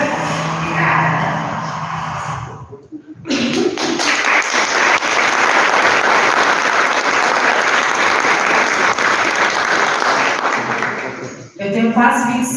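Sustained audience applause at an anniversary celebration meeting fills roughly eight seconds at close range, dense and steady, framed by brief speech before and after.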